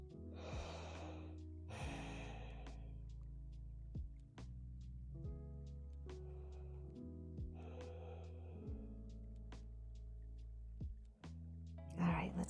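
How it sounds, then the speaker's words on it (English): Slow, deep inhales and exhales during a yoga child's pose, several long airy breaths close to the microphone, resting on soft sustained background music. "Fuel your body with breath, with deep, full,"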